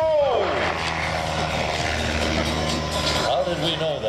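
A propeller airplane flies at the 2011 Abbotsford Airshow, its engine drone rising and falling steadily and loudly throughout as people talk over it.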